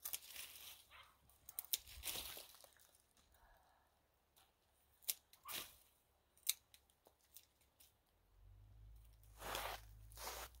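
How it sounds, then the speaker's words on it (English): Garden plants being cut back hard with shears before the first frost: several scattered crisp snips and rustling stems, close and fairly quiet, with no talking. "And the idea is I just trim these back drastically."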